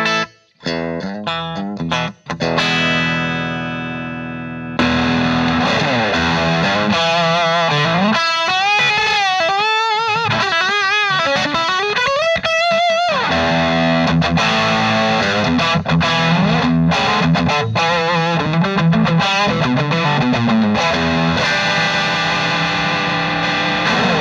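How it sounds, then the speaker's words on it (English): A Suhr Pete Thorn signature electric guitar played through a gain-driven amp with the humbucker in parallel mode, sustained distorted notes and bends ringing loudly, preceded by a few short chopped strums and with no talking over it. "And this is humbucking but parallel."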